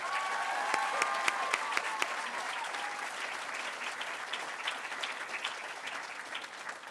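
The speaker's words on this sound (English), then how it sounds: "Can we please give them one final round of applause?" An audience at a school closing ceremony applauds graduates, a full wash of steady clapping from many hands, with a few sharper claps standing out early before it settles into an even roar.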